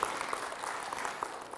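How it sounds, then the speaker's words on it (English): An audience at a church gathering claps, a faint, brief patter of hands heard from a distance. "you can clap. I think it's great."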